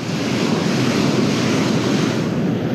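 Ocean waves surge up a beach on an incoming tide, a loud, continuous roar of surf with wind buffeting the microphone.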